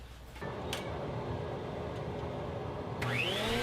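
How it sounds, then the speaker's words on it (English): A thickness planer skip-planes rough cherry lumber, making a loud, close roar that starts abruptly as the board feeds in and gets harsher near the end, with a few clicks and no talking. "I'm just going to start with a little skip planing and then get these down to a 3/4 inch thick"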